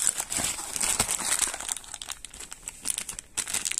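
Plastic packaging of a Decathlon Van Rysel BC 100 GPS bike computer crinkles and crackles as it is opened by hand, in a run of close, soft rustles and brief crunches with short pauses between.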